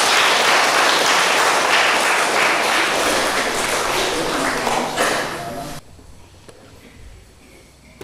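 Lively applause from wedding guests at a Catholic wedding ceremony with Karo customs, loud and sustained for about six seconds before dropping away to quiet room tone.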